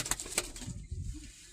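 A pigeon for sale, a large flying bird, gives a few soft low coos up close in a quiet space, with a couple of sharper clicks or taps just before.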